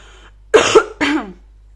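Two quick, harsh coughs close to the microphone, one right after the other, with silence before and after.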